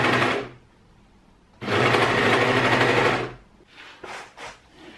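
An overlocker stitches jersey sleeve heads in short bursts, a loud close whirring that starts, stops, then runs for nearly two seconds before a few brief stutters.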